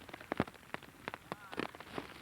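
Rain falling on a beach, with scattered raindrops pattering on a nearby surface in irregular bursts under light background noise.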